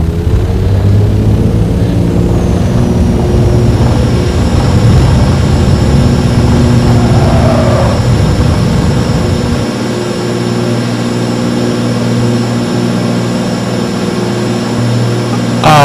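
Steady, loud aircraft engine drone in the X-Plane flight simulator game, continuous throughout with a deep low rumble that thins out partway through.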